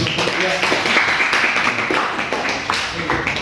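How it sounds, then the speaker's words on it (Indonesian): Clapping from a class in an Indonesian school lesson after a discussion group presents, a steady patter of hands sustained for a few seconds, with voices mixed in underneath. "Beri aplaus yang luar biasa"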